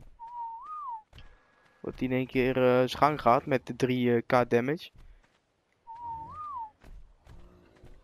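A game character in Ark Ragnarok gives a short rising-and-falling whistle, then a second one a few seconds later. Someone talks loudly between the two whistles.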